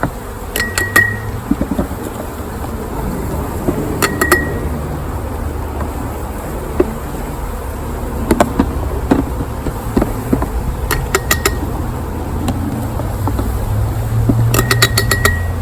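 Honey bees buzz in a steady, close drone as they are scooped from a hive frame into a container during a varroa mite test, with scattered tapping and knocking sounds throughout.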